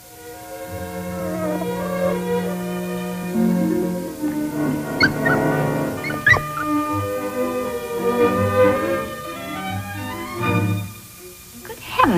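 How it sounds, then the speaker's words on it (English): A puppy, actually a wolf cub, whimpering and yipping in high, wavering cries close by, a dozen seconds of repeated whines mixed with voices talking. "It's a puppy."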